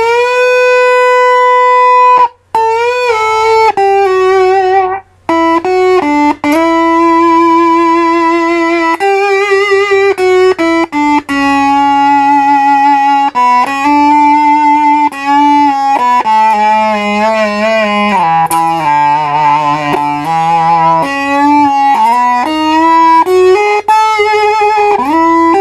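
Electric guitar through a Buzzbox fuzz pedal, volume knob full up and tone knob rolled down, playing a loud, smooth, sustained singing lead line with sliding held notes and brief gaps, no voices.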